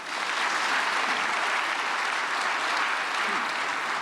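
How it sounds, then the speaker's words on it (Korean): An audience at a prayer meeting for peaceful reunification applauds to welcome a speaker: a broad, even wash of many hands clapping at once, sustained and unbroken throughout, moderately loud with no voices on top. "박수로 환영하겠습니다."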